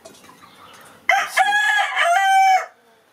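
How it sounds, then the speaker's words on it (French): A young rooster from a French poultry breeding flock lets out one loud, close crow lasting over a second, after a brief stretch of quiet farmyard background. "Je suis content de ce coq."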